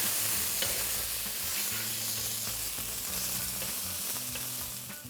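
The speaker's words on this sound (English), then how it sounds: "I'm going to fry this for a few seconds." Cumin seeds with ginger and garlic paste fry in a hot pan, giving a steady, close sizzle with faint crackles and stirring scrapes throughout, no talking.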